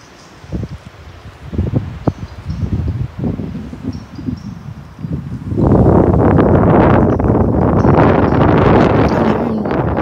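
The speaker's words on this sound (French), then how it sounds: "Petite rafale de vent." Scattered rustles and light bumps during horse training give way to a sudden strong gust of wind buffeting the microphone, roaring loudly and steadily until the end.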